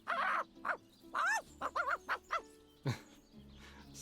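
Voice-acted dog barking from the video game Divinity: Original Sin: a human voice imitates a dog with a run of short, irregular barks and yelps over about four seconds, fairly close and clear against quiet game ambience.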